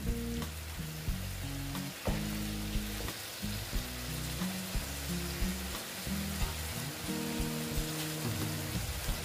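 Vegetables cooking with poppy seed paste in a pan: a dense, continuous sizzle with frequent stirring knocks and scrapes of the spoon against the pan, close and steady, with no voices.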